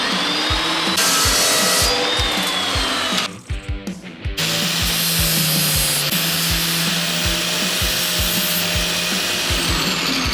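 A power tool cuts through a metal spacer piece for a drivetrain fix, a loud steady grinding roar with rhythmic low thumps, broken briefly by a pause before the cut resumes.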